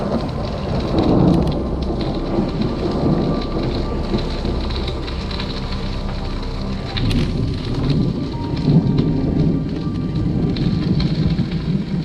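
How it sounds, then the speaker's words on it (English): Heavy, constant rain roars nearby on an open trail while thunder rumbles low in the background throughout. "And if you heard that thunder, I think that was Mother Nature's response."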